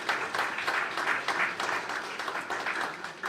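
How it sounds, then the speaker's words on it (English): A lecture audience claps at an evening talk on underwater archaeology, the applause moderately loud with a pulsing, uneven rhythm of many hands, steady throughout. "let's give Janice a big round of applause too"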